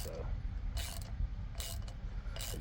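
Ratchet wrench tightening bolts while installing Timbren SES suspension on a 2025 Chevrolet Colorado, producing three or four short rasping clicking bursts at close range over a low background hum, no talking.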